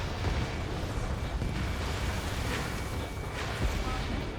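Missile launches and explosions in the jet combat game Ace Combat 7 make a dense roaring rumble, with a few heavier booming bursts standing out over the continuous aircraft and battle noise.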